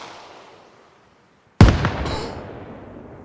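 A grenade launcher round explodes in DayZ, a sudden loud, sharp blast that cuts in after a quiet fading tail and is followed by a crackling, hissing decay.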